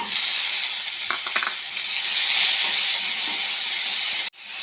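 Green chillies fry in a hot pan with a steady, loud sizzling hiss that holds nearly throughout, a few light taps near the start and a brief cut in the sound near the end.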